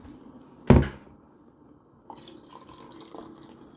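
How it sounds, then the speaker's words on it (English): Water poured into a household plant humidifier: one sharp, loud splash followed by quieter, irregular trickling and sloshing close by. "I dumped way too much water in this."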